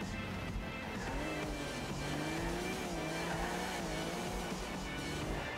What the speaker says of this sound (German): Guck mal, ich fahre doch Auto.